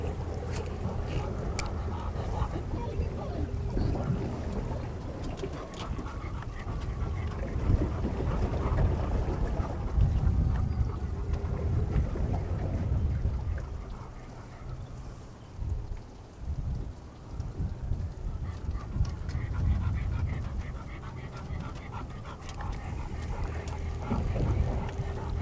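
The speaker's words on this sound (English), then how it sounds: "The wind is getting pretty tough. It's kind of gusty." Gusty wind roars steadily across open water while fishing, a loud, continuous rushing that swells and eases in waves, dipping briefly midway before building again.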